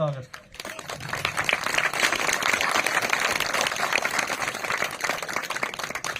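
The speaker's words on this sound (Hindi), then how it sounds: "और आप लोग जोरदार ताली स्वागत।" A gathered village crowd at a Gond cultural ceremony claps loudly in welcome, a broad, sustained wash of applause that swells after a brief voice at the start and holds steady.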